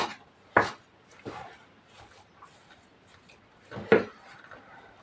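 Hands squish and knead a soft lentil köfte mixture in a home kitchen, giving a few louder wet slaps and pats between quieter mushy rustling, close up and with no one talking.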